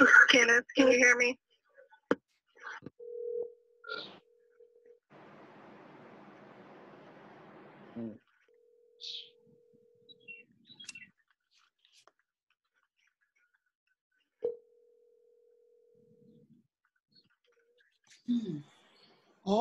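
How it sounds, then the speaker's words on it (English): Ringing on a recorded 911 emergency call comes as repeated steady tones broken by silent gaps, with brief muffled voices and bumps at the start and end. "All I can think of is that ringing"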